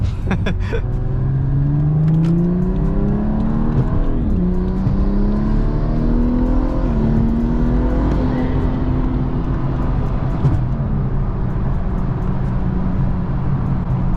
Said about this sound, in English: Oh yeah, BMW coming in hot.